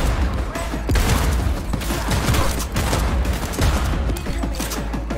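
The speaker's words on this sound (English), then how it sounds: "I kind of suck at shooting here" Dense, continuous gunfire from Cyberpunk 2077 combat, with rapid overlapping shots and bursts that stay loud and close throughout, with no talking.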